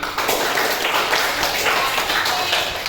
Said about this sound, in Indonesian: Ya, tepuk tangan dulu untuk ketiga kelompok.